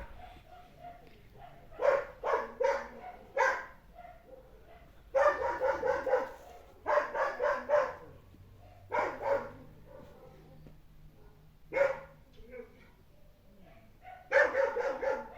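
A dog barks in a garden in bursts of two to four sharp barks with pauses between, fairly close and loud over a quiet outdoor background.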